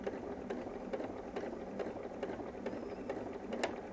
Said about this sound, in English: slowly sew your half inch seam allowance